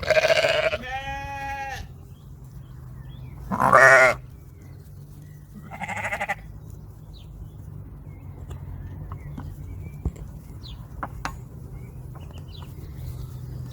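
Several sheep and lambs crowding a feed bucket on a farm in Germany bleat loudly near the start, a few separate cries, followed by quieter shuffling and faint clicks.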